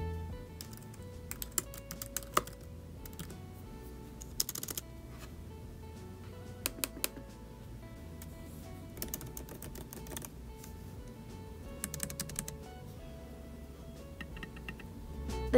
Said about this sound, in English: The keyboard sounds so much better, it's a lot quieter, a lot more professional sounding if you ask me.